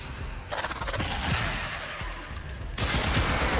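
A Tigris Prime shotgun fires in Warframe, a rapid stream of loud, harsh blasts and bursts across a few seconds with noisy effects layered in and no talking.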